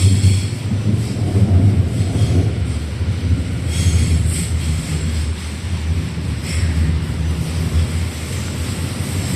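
A train passes close by with a loud, continuous low rumble and rolling roar that holds steady throughout, with no voices.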